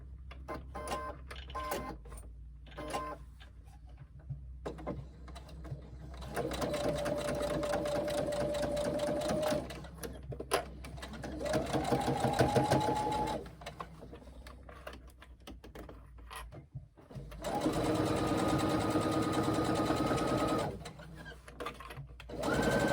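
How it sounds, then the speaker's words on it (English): A sewing machine stitches the side seams of a carry-all tote bag, running in fast steady bursts of mechanical whirring and needle clatter separated by short pauses, close and clear. "Now I'm going to sew both side seams, making sure I keep pockets and zips out of the way."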